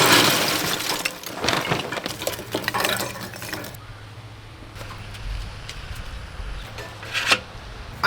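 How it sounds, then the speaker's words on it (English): Charcoal rattles and clatters as it is loaded into a Kamado Joe ceramic grill. A busy tumbling burst comes first, then sparse clinks and a few sharper knocks, close by. "Let's get some charcoal in this bad boy."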